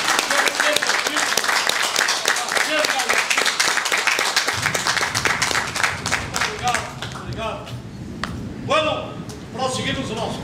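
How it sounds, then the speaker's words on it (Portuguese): A crowd applauds loudly with rapid clapping, later thinning into scattered claps as voices and cheers rise over it. "Eu queria os aplausos para vocês."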